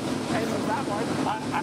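Vintage warplane engines at the Canadian Warplane Heritage Museum run with a smooth, steady, purring drone that fills the whole moment, with people talking over it.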